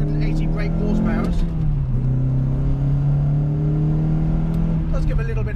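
A car of 172 or 180 brake horsepower revs up close by, a steady loud engine drone that rises and dips slightly, then picks up again near the end.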